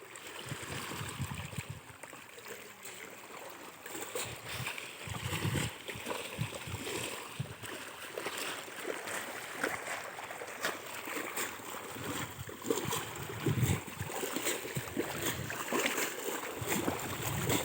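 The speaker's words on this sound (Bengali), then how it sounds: "ওই কাঁকড়াগুলো একটু ধুয়ে ফেলো" Water sloshing and splashing steadily beside a boat as crabs are rinsed in a Sundarbans river, with continuous broadband water noise and faint background voices.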